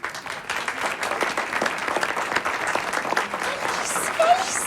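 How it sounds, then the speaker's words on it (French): An audience breaks into steady applause at a stage show, a dense sustained clatter of many hands at moderate volume, continuing evenly throughout with faint murmurs mixed in. "Sous vos applaudissements."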